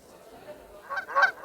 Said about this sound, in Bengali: সামনে আর একটা হাঁস আছে, অনেক কাছাকাছি, একটু টাচ হলে আমরা শেষ।